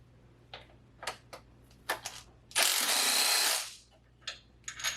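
A socket wrench works a 17mm transmission bolt on an Integra GS-R. Scattered close metallic clicks and taps come first, then a loud second-long burst of ratcheting, followed by a few more sharp clinks in a quiet garage.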